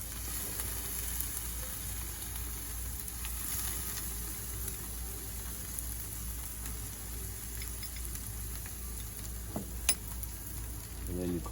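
Pork ribs sizzle on a grill under a steady, even crackle and hiss as mop sauce is applied, with a faint clink near the end.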